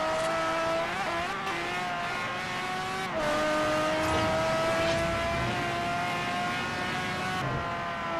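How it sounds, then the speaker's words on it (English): A high-pitched racing engine in Forza Horizon revs and shifts through gears, pitch climbing then dropping, loud and continuous with synthetic, game-like tone. "Listen to that engine, listen to the power,"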